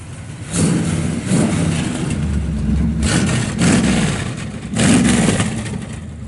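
A 1969 Chevrolet Chevelle SS 396 engine with electric exhaust cutouts open and an aluminum intake rumbles loudly, with deep idling burble and several sharp revs surging and falling.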